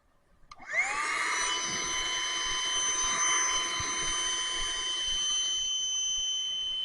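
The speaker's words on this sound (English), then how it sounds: "If you take your pump and instead of blowing air in, it sucks the air out." A float-tube air pump whirs steadily and loudly after a brief start-up, its whine holding at an even pitch as it sucks air out of the tube.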